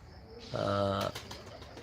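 A pigeon coming down to land gives a brief burst of wing flaps, faint against the background, with a voice talking over part of it.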